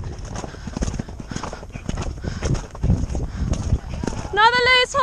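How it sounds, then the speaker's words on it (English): Hooves of a loose horse clatter in a quick, uneven clip-clop over hard ground, close and busy, ending in a shrill neigh, with people talking over the hoofbeats. "Another loose horse."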